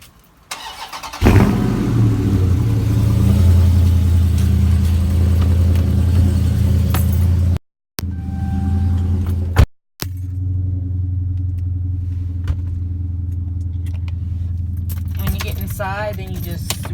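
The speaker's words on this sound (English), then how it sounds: "when you press the keys 2 times, it will crank the car for you" A Dodge Charger ScatPack 392 V8 cranks over after a remote start and settles into a loud, deep idle rumble that carries on with brief interruptions, with keys jangling close by.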